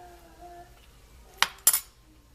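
A sour cream spoon clinks twice against a dish of cilantro lime rice, two sharp bright metallic taps close by after a quiet stretch.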